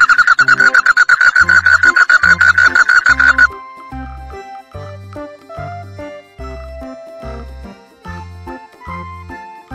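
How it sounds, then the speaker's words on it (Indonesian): A frog calls in a rapid, loud, rhythmic string of pulsing croaks over a steady beat, then stops as light music with soft plucked notes carries on alone. "Ini adalah katak."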